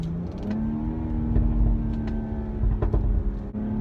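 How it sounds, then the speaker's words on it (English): Exhaust note of a 2018 BMW X3 M40i SUV, a steady droning engine tone with slight revving swells, heard close and continuous with no talking. "Just listen to that exhaust."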